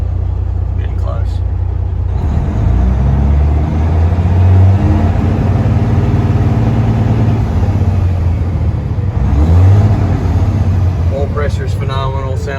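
A 2011 Freightliner Coronado glider truck engine, loud and steady, with a low rumble that swells into revs twice, once around the middle and again later, and a faint voice near the end.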